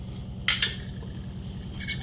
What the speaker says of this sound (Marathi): आणि हे दूध सुद्धा जे आपण इथे ठेवलंय त्याला यादून मधून थोडंसं हलवत राहायचंय